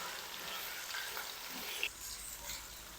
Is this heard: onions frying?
yes